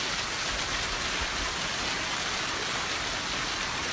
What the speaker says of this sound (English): And this is golf ball sized hail,